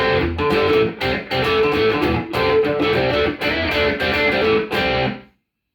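Electric guitar rhythm tone from the middle pickup position, woody and clangy, with strummed chords in a choppy rhythm and brief gaps between them, loud and close, stopping abruptly at the end.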